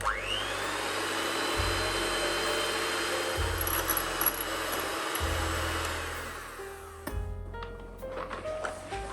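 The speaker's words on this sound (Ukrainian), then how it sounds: "Починаю збивати з маленької швидкості, поступово збільшую до максимальної." Electric hand mixer whipping egg whites to stiff foam for a Ukrainian cheesecake batter, a steady motor whine stepping up through speeds, then easing off near the end with light clinks and knocks.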